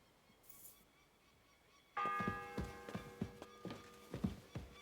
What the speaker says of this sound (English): It's the 8th bell.